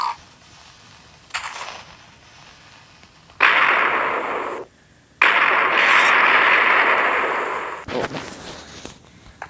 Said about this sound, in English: Light up the TNT cannon and launch that pig.